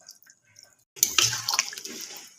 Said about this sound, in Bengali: দিয়ে দেওয়া হচ্ছে এবার এর মধ্যে একটু জল।